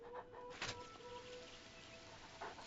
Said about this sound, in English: I heard the chickens.